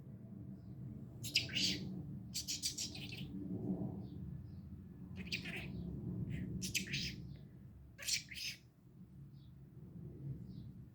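A pet bird chirps in short, sharp, high tweets that come in clusters, fairly close, over a low indoor rumble.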